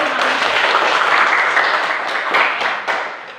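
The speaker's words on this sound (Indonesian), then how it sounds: "Ayo berikan tepuk tangan" A classroom full of children claps together in loud, dense applause that holds steady, then tapers off with a few final scattered claps.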